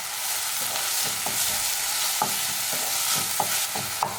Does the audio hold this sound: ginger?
yes